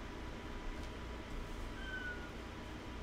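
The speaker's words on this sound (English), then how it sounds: "I hear her meowing." A cat gives a single short, faint meow in a room with a steady low hum, no talking.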